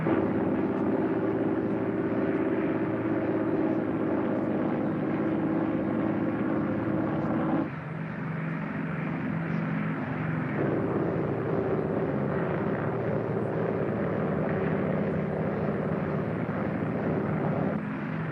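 A propeller airplane at a Berlin airfield in 1949 takes off and climbs, its engines droning loudly and steadily with a heavy low rumble that shifts slightly partway through.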